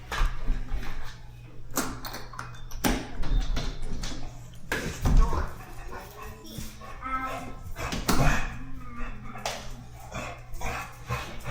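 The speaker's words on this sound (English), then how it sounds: "This dog is the biggest pain in the butt you ever want to meet." A large dog over 100 pounds whimpers, yips and barks insistently indoors, loud and close, with continuous whining between sharper barks and a person's voice occasionally underneath.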